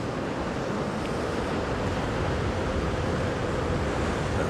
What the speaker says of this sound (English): The wind's blowing around a little bit.